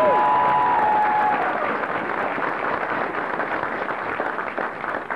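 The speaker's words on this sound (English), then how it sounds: "Let's give them a round of applause." A large outdoor crowd at a military graduation ceremony at Fort Benning applauds the band with loud, continuous clapping and some cheering that slowly fades toward the end.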